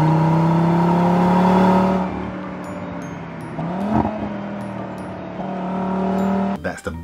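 A five-cylinder Audi engine rumbles loudly with strong harmonic tones that drop away as the revs fall, then settle into a lower, uneven hum before a brief burst near the end.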